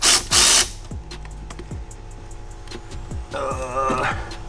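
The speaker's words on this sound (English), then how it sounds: "I'm using an easy ratchet and a 6-inch extension." Ratchet with a 6-inch extension and 10mm socket loosening a bolt on a 2018-2023 ProCharged Mustang GT, a series of sharp metallic clicks spread across the clip, with a couple of louder bursts near the start and busier clatter toward the end.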